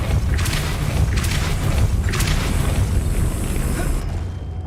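A Depulso spell cast in the video game Hogwarts Legacy makes a few deep booming bursts over a dense, loud rumbling wash that fades out at the end.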